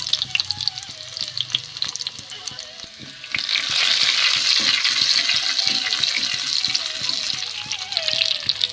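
Sliced onions and mustard seeds frying in hot oil, sharp popping and stirring clicks at first, then a loud, steady sizzle swelling up as the onions hit the pan, close and continuous.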